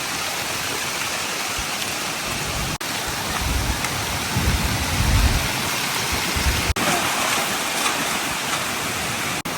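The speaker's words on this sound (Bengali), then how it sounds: "অনেক জোরে বৃষ্টি শুরু হয়ে গেছে, আর এই বৃষ্টিতে যে এই দিক দিয়ে বাতাসের সাথে প্রচুর পানি আসতেছে।" Heavy rain lashes down with gusting wind, a loud continuous wash of water that swells stronger in the middle with a deeper rumble before settling back to a steady downpour.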